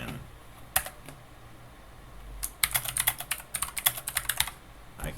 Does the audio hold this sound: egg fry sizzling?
no